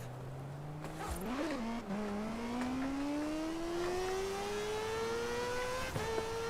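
A racing car engine in Forza Horizon 4 drones steadily, climbing in pitch as it revs up through the gears to about 9,500 rpm, with a brief dip and squeal early on.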